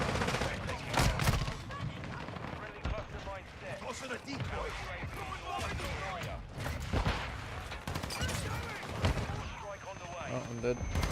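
Video game gunfire crackles in repeated bursts through a noisy firefight, with players talking over much of the shooting.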